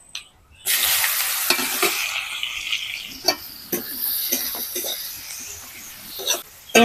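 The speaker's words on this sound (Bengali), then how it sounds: "পেঁয়াজটাকে আমি হালকা করে ভেজে নেব" Chopped onions dropped into hot oil hiss loudly, then keep frying with a softer sizzle while a spatula scrapes and clacks against the pan in irregular strokes, up close and without talk.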